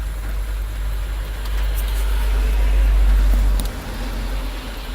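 Renault Dacia car cruising on a motorway, a steady low road and engine rumble that swells briefly mid-way before settling back, with no voices.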